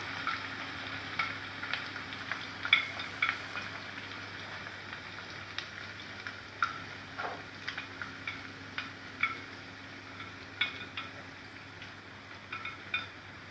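Chopped ginger, green chili and garlic fry for amla pickle and are stirred: a soft, continuous crackling sizzle with sparse light ticks and taps of the spoon, fairly quiet and without voices.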